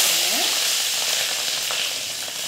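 Garlic and green chillies fry in oil in a clay pot for a mango fish curry. A loud, steady, close sizzle hisses throughout with no talk.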